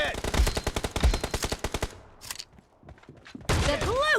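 M1014 shotgun fire in a fast video game match: a rapid run of loud, sharp, evenly spaced shots, then a brief quieter gap with small thuds before another loud burst of effects.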